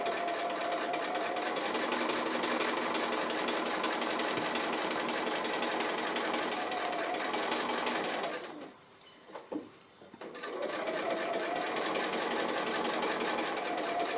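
A sewing machine stitches applique fabric with a fast, steady mechanical whir, runs continuously, pauses briefly for about two seconds, then resumes at the same close, even pace.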